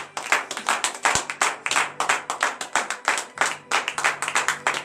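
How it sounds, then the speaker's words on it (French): A church congregation at a Tuesday morning prayer service in Benin claps in brisk, steady rhythm with cheering acclamation, the dense hand claps loud and close, filling the whole stretch without a spoken voice. "montrez votre reconnaissance à l'Éternel en lui donnant de vives acclamations ce matin"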